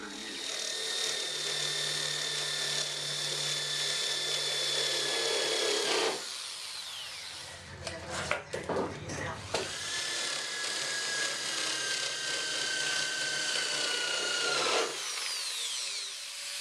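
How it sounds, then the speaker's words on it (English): Power drill boring out spot welds on a sheet-metal panel of a 1960 Chevrolet Impala under restoration, a loud sustained whining drill run, a brief pause with clanking metal, then another long drilling run, close up. "Drilled through all of these spot welds."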